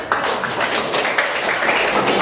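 Students applaud in a classroom, a steady wash of many hands clapping close by for about two seconds with no talk over it.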